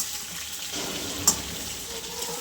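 Chopped capsicum frying in oil in a pan for chutney, a soft even sizzle with one brief clink of a utensil, no voices.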